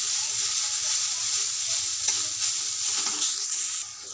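Chopped banana stem is stir-fried Bengali style with mustard seeds and green chili, a loud, continuous close sizzle with faint scraping as the pieces are mixed in the pan.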